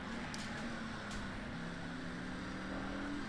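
Race car engine in Race Driver GRID, a steady sustained drone with a slowly rising pitch as the car holds an outside line in second gear alongside LMP2 prototypes, loud and continuous with no talk.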